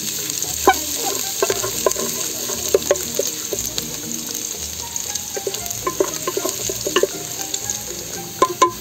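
Ginger and then garlic sizzle and crackle in hot cooking oil in a pan, a steady frying hiss broken by frequent sharp pops and stirring scrapes, close and fairly loud with no talking.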